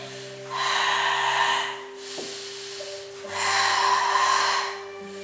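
Breathing during a pilates exercise: two long, strong breathy exhales separated by a softer inhale, close and clear over a steady low hum, with no talking.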